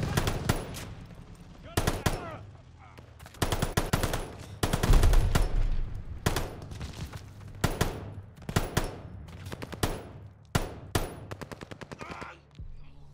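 Machine gun fire in Call of Duty Vanguard's WWII campaign, loud rapid bursts and single shots in an irregular, sustained battle rhythm, close and dominant throughout.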